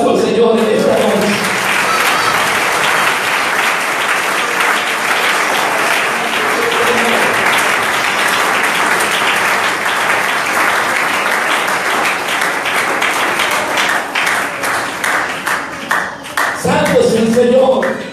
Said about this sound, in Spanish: Démosle un aplauso al Señor en esta noche.